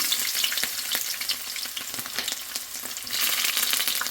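Bay leaf, cinnamon, cardamom and chopped garlic fry in hot oil for spicy chicken, a dense, steady sizzle with occasional stirring scrapes that swells louder near the end.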